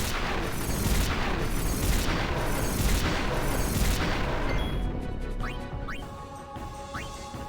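Fire gem explosions in Final Fantasy X strike the party in a series of heavy, rolling booms that fill the first five seconds, then give way to quieter battle effects with short rising chimes.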